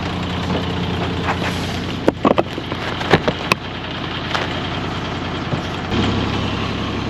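A boat engine runs steadily while the boat sits grounded in the Erie Canal, a loud continuous rumbling drone with a few knocks and clunks, rising slightly in power near the end.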